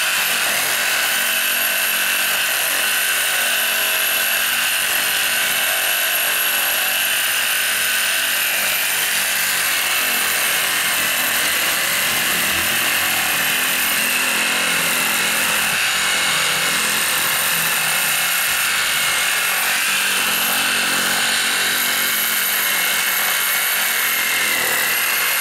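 A reciprocating saw cutting through material, a loud steady buzzing whine holding for the whole stretch with no talk over it.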